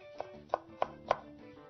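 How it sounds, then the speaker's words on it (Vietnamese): A knife dices leek on a cutting board while vegetarian fried rice is prepared, giving four crisp, evenly spaced chops close up. "Đó, mình cắt hạt lựu luôn."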